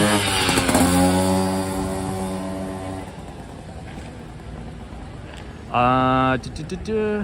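A moped passes along a busy New York City street near Wall Street, its engine drone loud at first and then fading into city noise, with a short, sharp burst of sound near the end.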